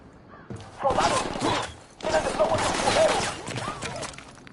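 Bursts of gunfire from the video game Ghost Recon Wildlands come in two dense, loud volleys of rapid shots, mixed with voices in the foreground.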